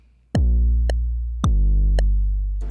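A plain 808 bass line plays alone: two deep, booming sustained notes start in turn and slowly fade, with light clicking ticks above them.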